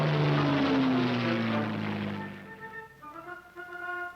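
Military propeller planes of the Ethiopian armed forces drone loudly overhead, their engine roar sliding downward in pitch as they pass and fade, leaving a steadier humming tone.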